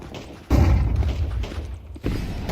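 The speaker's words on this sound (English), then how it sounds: "Deploying flashbang." Flashbang grenade going off in Counter-Strike 2, a sharp booming thud followed by a ringing rumble, then a second thump near the end, fairly near and loud.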